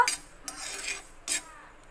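A kitchen knife chopping raw mangoes for avakaya pickle at home, with a few sharp, separate cuts spaced unevenly over a quiet background.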